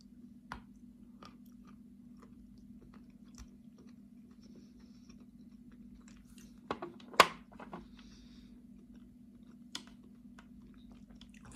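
Someone bites into and chews a homemade cookie, producing a few faint, scattered crunches and one sharper, louder bite in the middle, over a quiet background hum.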